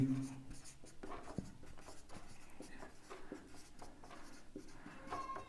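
Writing strokes during a Class 10 maths lesson on coordinate geometry, a steady stream of soft scratching and tapping pen marks that runs without a break for several seconds, close up and with no talking.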